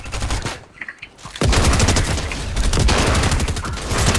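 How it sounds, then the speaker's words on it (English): Rapid bursts of assault rifle fire in a Fortnite match, loud and sustained after a short quieter lead-in, with dense overlapping shots continuing to the end. "Oh, I'm shooting."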